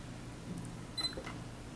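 A Sony NEX-5T mirrorless camera fires its shutter by touch, giving a brief soft electronic click-and-beep around the middle of an otherwise quiet stretch with faint room hum.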